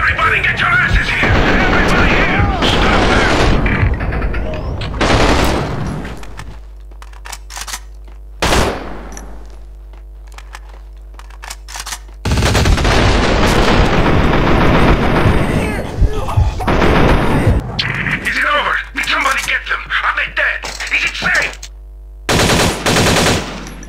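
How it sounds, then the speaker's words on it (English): Bursts of automatic and single gunfire from a Max Payne 2 firefight, loud and close, come in several clusters separated by short gaps, with game voices talking between volleys. "I can still hear gunshots!"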